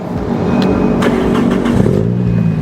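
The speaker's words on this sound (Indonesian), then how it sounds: "Sekarang kita coba untuk hidupin mesinnya." Toyota Vios 2012 sedan engine starting up and revving, a loud close mechanical roar with rising and falling pitch sweeps over a couple of seconds.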